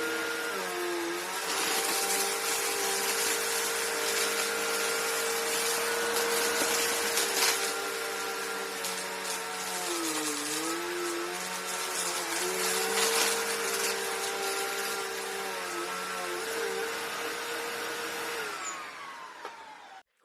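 Upright vacuum cleaner running steadily for about twenty seconds, a loud continuous motor whine with slight pitch wobbles as it works over a large mess, then shutting off abruptly at the end.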